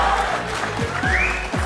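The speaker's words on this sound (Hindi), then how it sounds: "आप सबकी तालियों में हम दावत देते हैं" Studio audience at a Pakistani comedy talk show applauds as a guest arrives, steady clapping under a bright musical sting, with a few low thumps cutting through.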